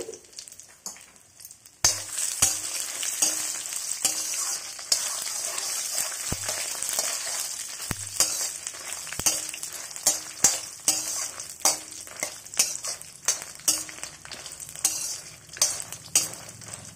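Dried red chillies and garlic frying in oil in a kadai, a loud continuous crackling sizzle with frequent sharp pops and spatula scrapes, close and steady without talk.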